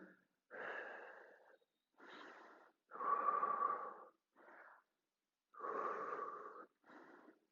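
Slow, deep breaths during a gentle stretching exercise, a series of separate breathy inhales and exhales with brief pauses between them, close and soft in an otherwise quiet room.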